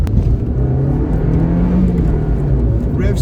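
A Fiat Punto Active Sport's 1.2 litre engine revs up close and loud, a steady rising drone that climbs and eases back, with no one talking.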